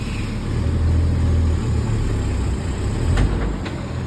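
A truck engine rumbles steadily at close range as the vehicle reverses on a sharp curve, with low idling drone and a slight swell in revving partway through.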